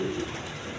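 Chocolate-colored high-flying Giribaz pigeons with two chicks give a brief, soft low coo early on, then only a faint murmur under steady background hiss.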